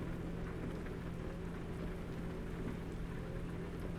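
Steady rain in the American Truck Simulator game, a dense even hiss of drops on the truck with a low engine rumble beneath, constant and unbroken throughout.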